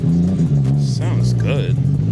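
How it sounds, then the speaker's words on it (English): A Toyota Supra Mark III engine rises and falls through a couple of revving bursts close by at a cars and coffee meet, with a voice talking over the low rumble. "Ooh, a Supra pulling correct me if I'm wrong, so Mark III."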